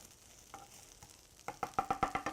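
Baby corn and tofu are tossed in a frying pan, giving a soft sizzle and then a quick run of about six rhythmic stirring scrapes near at hand, with no voices.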